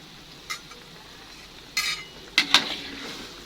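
Eggs being stirred into seblak in a pan: a few separate metallic clinks and scrapes of a utensil against the pan, spaced irregularly over a faint background sizzle.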